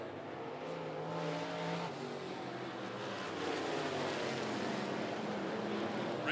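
Late model race cars at 411 Motor Speedway run nose to tail out of a turn, engines roaring in a steady, fairly distant wash of sound that builds slightly as the pack approaches.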